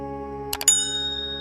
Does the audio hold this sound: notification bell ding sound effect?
yes